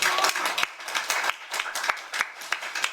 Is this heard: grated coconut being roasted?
no